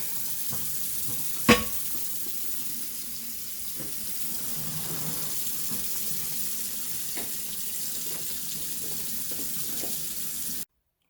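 A pizza steel rinsed under a running tap, a steady rushing hiss of water with one sharp metallic clank early on, running evenly until it stops abruptly.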